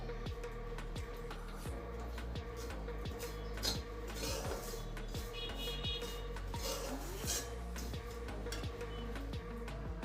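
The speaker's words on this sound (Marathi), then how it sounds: "आता कढईमध्ये मेथी पावडर टाकून त्यात अर्धा चमचा तूप घालून परतून घ्या" A spatula scrapes and taps against a wok in a quiet, steady rhythm, dry stirring of fenugreek powder being toasted in a little ghee.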